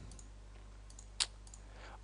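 A computer mouse gives a single sharp click during Photoshop work, heard close and alone over a faint steady hum.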